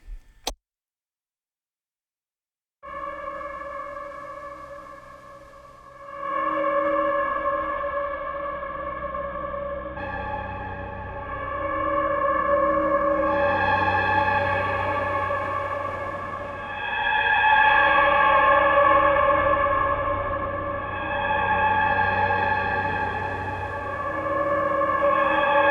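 Slate + Ash Ruins plugin playing its Brutalist Chamber preset: a dense, sustained ambient soundscape of layered harmonic drones with chorus and echo, entering after a brief silence and swelling in several stages, loud and continuous with no voice.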